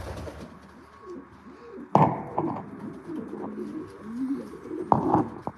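Racing pigeons in a loft cooing softly, low throaty coos rising and falling across the clip, with a couple of sharp knocks or wing flutters nearby.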